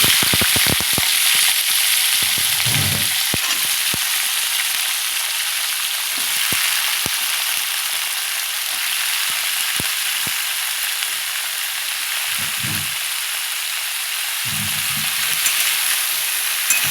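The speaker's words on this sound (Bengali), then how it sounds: "তেল গরম হয়ে গেছে এবারে এই তরকারিটা এখানে বসিয়ে দিচ্ছি" Vegetable curry frying in hot oil in a home kitchen while lunch is prepared, giving a steady close sizzle throughout with a few brief louder bursts and faint stirring clatter.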